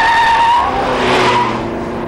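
A Volkswagen station wagon squeals its tires through a slalom handling test, a loud, sharp, wavering screech lasting about two seconds over a faint engine hum.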